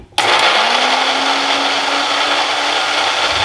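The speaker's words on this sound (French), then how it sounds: "Le mixeur est fini de mixer." Kitchen blender mixing protein shake ingredients switches on abruptly and runs as a loud, steady whirring roar with a sustained motor whine, alone without any voices.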